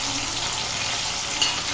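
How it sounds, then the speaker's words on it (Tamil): Drained potatoes fry in a hot pan with a steady, dense sizzle, close and fairly loud throughout, with one brief sharper crackle near the end. "தண்ணியை வடிச்சிட்டு அதில் போடணும், போட்டு அதை வறுத்துக்கணும்"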